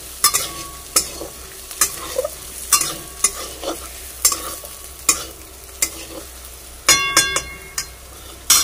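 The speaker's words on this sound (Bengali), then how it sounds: "আমি এখানটা আলু ভাজছি" Potatoes fry in a pan at close range under a soft steady sizzle, while a spatula stirs them in regular sharp scraping strokes roughly every second, with a cluster of quicker scrapes near the end.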